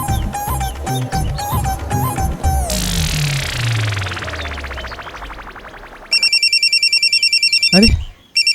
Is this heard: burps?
no